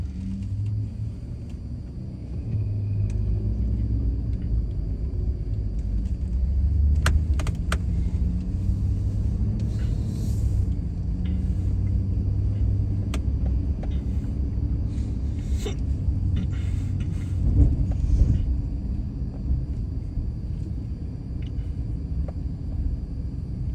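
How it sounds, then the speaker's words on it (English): A car driving at night on city streets shudders and rumbles, a steady low road and engine drone with faint rattles and clicks throughout. "Our car's kind of shuddering."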